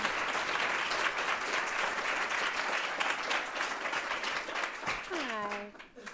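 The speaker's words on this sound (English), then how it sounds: "please join me and applaud for Danielle Sered." An audience applauds a speaker at a talk, a dense, sustained burst of clapping that thins out toward the end, with a voice speaking briefly over it as it fades.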